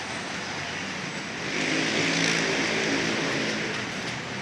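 Tricycles passing along a road near SM Masinag, with a steady traffic rumble that swells midway as a vehicle goes by close, then eases off.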